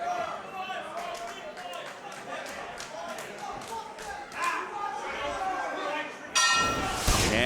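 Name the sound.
wrestling match starting bell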